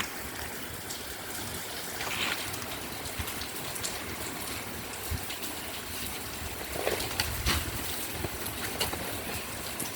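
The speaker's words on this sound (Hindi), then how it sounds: "बढ़िया बारिश हो रहा है, मज़ा आ गया भाई साहब।" Steady rain falls outdoors as a dense, even hiss with occasional louder patters and drips, continuous for the whole stretch.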